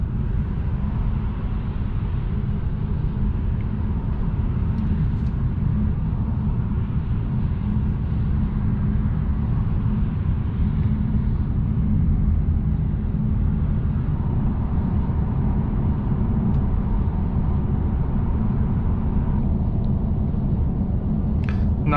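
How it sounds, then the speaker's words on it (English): Steady low road and tire rumble inside a 2021 Mercedes-AMG E400 cruising at 90 km/h on smooth highway pavement, a continuous muted drone without talk throughout. "Now this road is really smooth, so the noise from the tires is lower."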